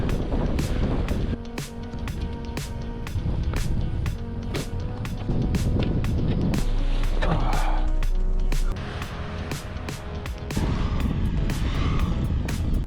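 A car's engine revs hard under heavy throttle while stuck in about two feet of deep snow on an unplowed road during a blizzard, a steady loud drone surging and easing across the clip with wind noise.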